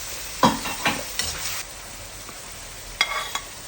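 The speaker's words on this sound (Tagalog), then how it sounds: "Una ay gisang sibuyas. Pagkatapos ilagay ang beef. Hayaang maluto." Onions and beef sauté in a pan for beef biryani, giving a steady soft sizzle broken by a few sharp scraping stir clicks near the start and again toward the end.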